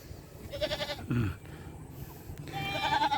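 Goats bleat on a farm, several short wavering calls in sequence, fairly close with light background noise.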